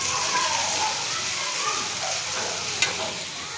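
Chopped cabbage sizzles and hisses steadily as it fries in a pan with spices, with a light stirring scrape and a sharp clink near the end; a voice talks over the cooking.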